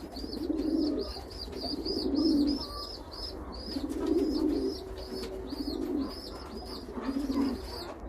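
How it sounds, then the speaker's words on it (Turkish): Repeated soft coos from a pigeon chick begging its mother for food, arriving in bursts roughly every one to two seconds, close and moderately loud with faint higher chirps in the background. "Yavru da hala ısrarla bıkmadan anneden yiyecek istiyor."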